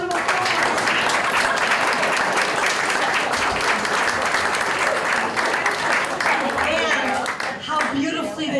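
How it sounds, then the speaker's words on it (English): Audience at a rooftop fundraiser panel discussion applauds two theaters with sustained, dense clapping that stays loud and steady, then thins slightly near the end. "let's give them a round of applause"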